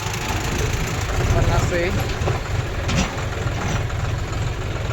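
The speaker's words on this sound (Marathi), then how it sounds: "फुल पॉवर आहे ट्रॅक्टरमध्ये हा." A tractor engine runs at full power with a steady low diesel drone and rumble, close by, while someone talks over it.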